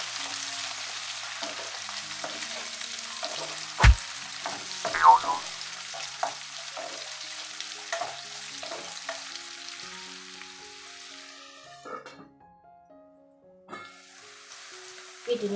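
Chopped onions and green chillies fry in a pan with a steady close sizzle, broken by sharp clicks and scrapes of stirring, before the frying fades out near the end.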